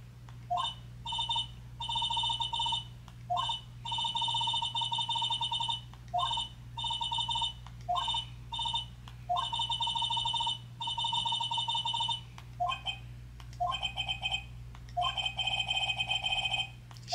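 A telephone in Phoenix Wright: Ace Attorney rings in repeated electronic bursts, each a buzzy double trill separated by short gaps. It is loud and steady throughout, with no talking.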